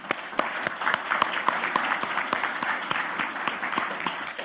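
An audience applauding a speaker at an agricultural conference, steady clapping from a modest crowd with individual claps distinct, moderately close and continuous.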